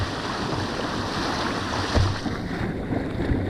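A small boat paddled across an alpine lake during a road trip through Switzerland and the Dolomites, steady water wash and wind buffeting the microphone, with a couple of soft splashes from strokes near the end.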